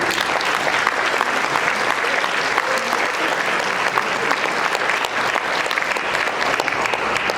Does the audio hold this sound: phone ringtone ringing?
no